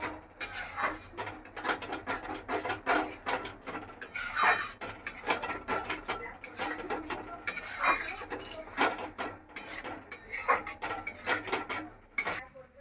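Tamarind pulp is mashed in a boiling pot, a steady run of scraping, clinking utensil strikes against metal with irregular knocks. A faint bubbling sits underneath.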